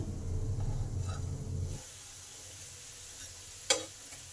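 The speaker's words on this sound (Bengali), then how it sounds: "একটু উল্টি পাল্টিয়ে লাল লাল করে ভেজে নেবেন" Egg and onion pakoras fry in hot oil and are turned over, giving a close sizzling hiss for about two seconds that then drops to a faint simmer, broken near the end by one sharp click.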